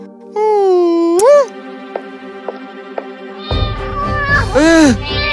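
Several high, drawn-out kitten meows, one after another, with a steady tone and a few soft ticks underneath, ending in louder overlapping mewing.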